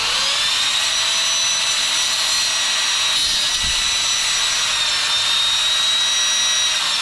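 A power tool cuts a part during repairs on The General, a steady, loud high-pitched whine that holds constant the whole time, with a brief low thump midway.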